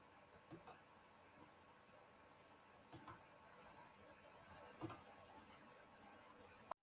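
A computer mouse clicking, heard as three quiet double clicks spaced a couple of seconds apart, close by in an otherwise quiet room.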